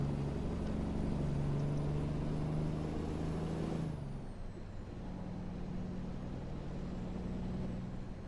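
A low truck engine drones steadily inside the cab in American Truck Simulator, shifting tone midway as the revs drop, with a faint high whine above the rumble.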